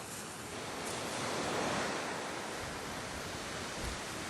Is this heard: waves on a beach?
yes